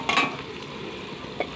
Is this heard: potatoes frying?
yes